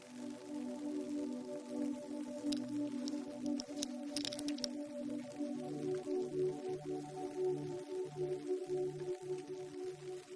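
Steady rain patters and drips at the start of a storm, with a soft continuous wash and a few sharper drops, a low tonal hum running underneath throughout.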